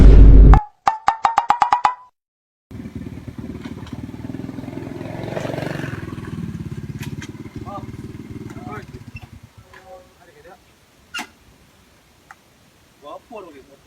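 A motorcycle engine runs with a steady, throbbing rumble for several seconds, then fades out, with voices chatting nearby.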